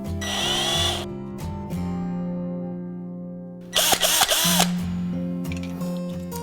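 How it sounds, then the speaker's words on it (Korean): A power drill bores a wiring hole in a Hyundai car panel while a blind-spot sensor is fitted, whirring loudly in short close bursts with pauses and a sharp rise in pitch under load. "저는 이쪽에 배선 구멍을 뚫어줄 겁니다"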